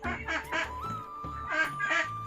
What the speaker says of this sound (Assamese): আৰু তলত আছে হাঁহকেইটা